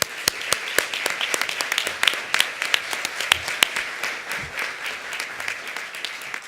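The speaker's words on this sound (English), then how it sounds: "join me in a round of applause for all of our supplier sponsors" Dense, steady applause from a sizable crowd at a conference opening ceremony, many hands clapping continuously at even loudness throughout.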